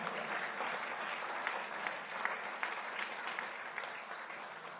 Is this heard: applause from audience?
yes